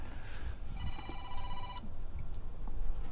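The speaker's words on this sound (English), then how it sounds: "And of course my phone's ringing." A phone rings briefly in a garage during a GM Vortec LS water pump replacement, a short electronic trill of about a second heard faintly under workshop background noise.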